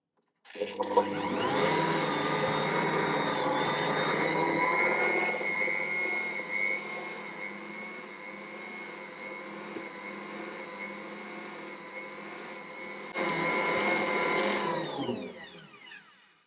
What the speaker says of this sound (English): I'm going to knead that for another 10 to 12 minutes until it's fully combined and the dough is silky smooth and very, very stretchy